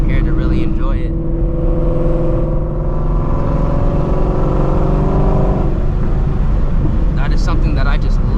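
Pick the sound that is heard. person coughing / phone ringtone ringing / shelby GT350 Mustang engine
shelby GT350 Mustang engine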